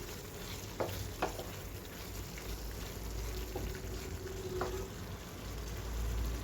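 Fried jackfruit pieces sizzle steadily in a pan of masala, a continuous frying hiss with a few clinks of stirring, no talking.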